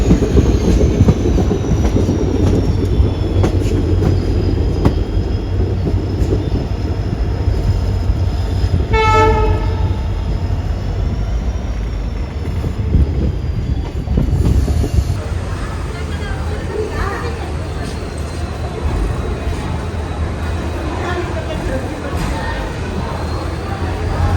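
The Chamarajanagar-Tirupati Express pulls slowly into Nanjangud station: a loud, steady rumble of the carriages with a brief horn blast in the middle and a faint high squeal of wheels throughout.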